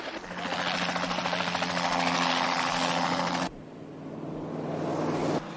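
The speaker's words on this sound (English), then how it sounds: "This chopper equipped with a CB?" A helicopter drones loud and steady with a throbbing rotor and engine whine, cutting off abruptly partway through and then returning slightly quieter, with no voices.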